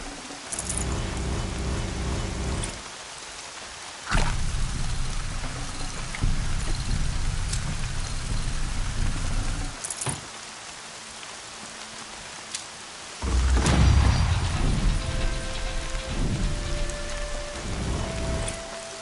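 Steady heavy rain falls in the Horizon video game world, with rumbling thunder swelling in bursts between loud, continuous downpour passages.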